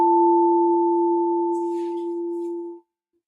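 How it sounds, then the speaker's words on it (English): Sound healing tones: two pure, steady, layered hums sustained for nearly three seconds, clean and unwavering, before cutting off abruptly into silence. "So we're going to do a short sound healing."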